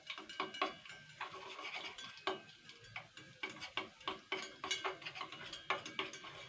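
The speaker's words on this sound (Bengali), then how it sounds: "এবার একটু চামচ দিয়ে ঘেঁটে নেব।" A spoon stirs melted wax and broken crayon pieces in a small container, giving a quick series of light metallic clinks and scrapes in an irregular rhythm, close and fairly quiet, with no voice.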